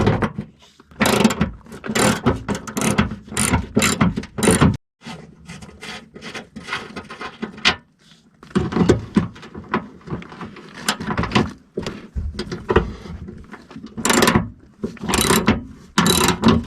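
A hand ratchet wrench clicks in rapid bursts while loosening battery tray bolts on a 1993 Chevy K3500 dually 4x4 pickup, with short pauses between loud, close-up runs of ratcheting.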